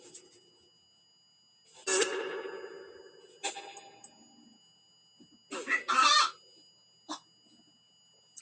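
A chicken clucks in a few separate bursts, some drawn out and some short and sharp, loud and close against an otherwise quiet indoor background.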